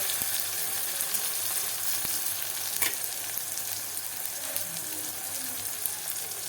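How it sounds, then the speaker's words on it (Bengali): Onions and garlic frying in a pan, a steady soft sizzle with occasional stirring clicks, moderately quiet and uninterrupted by speech. "একটু লাল করে হালকা লাল করে ভেজে নেবো পেঁয়াজগুলো"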